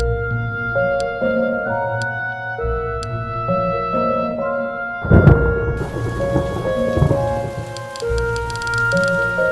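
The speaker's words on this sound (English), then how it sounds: "It's starting to rain." Rain patters over a campsite while a heavy thunderclap booms and rolls midway, set against a steady musical backing that continues throughout.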